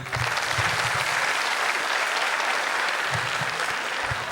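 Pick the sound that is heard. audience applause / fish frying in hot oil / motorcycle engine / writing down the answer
audience applause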